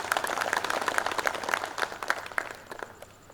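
An audience at a poetry event claps together, a brisk burst of applause that fades out over a few seconds.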